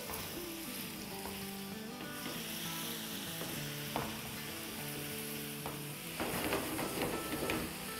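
Goat liver kaleji fries in a pan with a steady, quiet sizzle and hiss, with occasional stirring knocks and a louder burst of crackling near the end.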